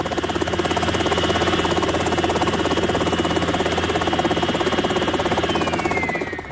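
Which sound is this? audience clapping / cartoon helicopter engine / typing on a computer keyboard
cartoon helicopter engine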